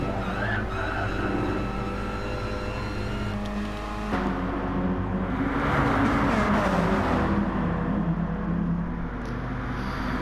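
Racing cars in a video game race roar around a tight track section with barriers close by, engines droning and revving loudly in a dense pack, with a brief skid-like rush midway.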